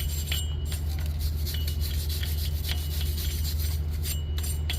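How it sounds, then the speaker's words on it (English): A small wire brush scrubs a rusty brake caliper bracket on a 2020 Chevrolet Equinox, giving quick repeated rasping strokes close up over a constant low hum. "First, I'm gonna hit this with this little wire brush"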